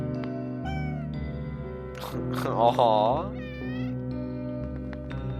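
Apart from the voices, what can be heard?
cats meowing in the video game OneShot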